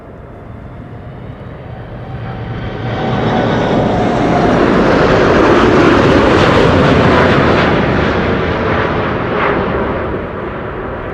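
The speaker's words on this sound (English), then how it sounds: "A310s, don't see those every day anymore. Cargolux arriving from Miami, Florida." A Cargolux Airbus A310 cargo jet arriving to land at Amsterdam Schiphol, its engine roar swelling loud and close, holding a broad sustained rush, then easing slightly as it passes.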